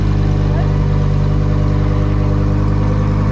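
A Lamborghini engine runs steady and loud with a deep low rumble and strong harmonic drone, holding a sustained rev from start to finish with no gaps.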